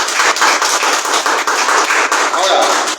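A church congregation claps hands loudly and steadily in praise of Christ, a dense run of rapid, close claps sustained over a few seconds.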